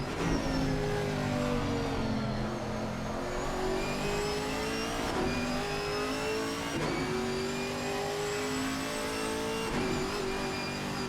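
Onboard a GT4 race car pulling out of turn 4, the engine climbs steadily in pitch through several upshifts, loud and continuous, with brief dips at each gear change.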